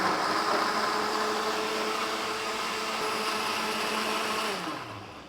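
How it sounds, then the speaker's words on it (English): A blender blends smoothie ingredients with added water, running in a loud continuous whir for several seconds, then the motor winds down near the end. "So I've got everything in my blender, poured some water in there as my liquid. Just gonna blend it all up"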